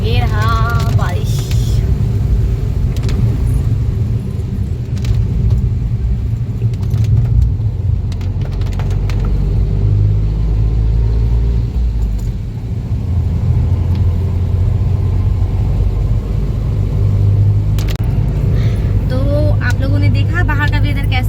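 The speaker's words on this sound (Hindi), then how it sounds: "बारिश में गाड़ी चलता है तो और ज़्यादा अच्छा लगता है।" A car drives through rain, giving a steady, loud, close road and engine rumble throughout, with people talking over it.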